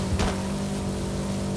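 A car engine in a racing video game revs and holds a steady, loud drone, with a brief surge near the start before settling into an even hum.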